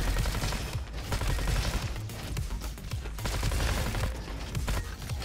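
Raptor SMG in the video game Roboquest, heard as dense, rapid automatic gunfire in sustained bursts, loud and close, with no clear talking.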